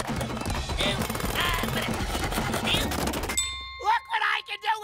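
A cartoon chisel hammers in a rapid, loud rattling burst of clattering strikes lasting several seconds, then stops abruptly before a short ding and a character speaking.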